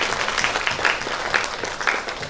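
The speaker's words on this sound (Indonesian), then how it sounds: "Kita tepuk tangan untuk beliau" An audience claps for a Hindu priest from Bali welcoming him at an interfaith family event, a brief steady patter of applause from a crowd, moderately loud with no voices over it.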